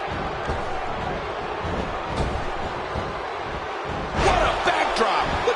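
Arena crowd in the WWE 2K16 wrestling game, a steady roar of cheering that swells louder near the end with sharp whoops and slams on top.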